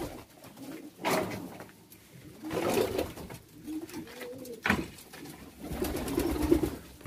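Çorum Çıplağı breeding pigeons coo softly in their loft beside their chicks, with low burbling calls rising and falling, plus some rustling and scattered knocks nearby.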